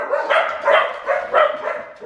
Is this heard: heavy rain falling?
no